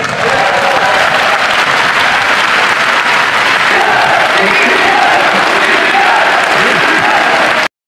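An audience applauds during a presidential speech, dense sustained clapping from a large crowd filling the hall loudly and evenly for about eight seconds.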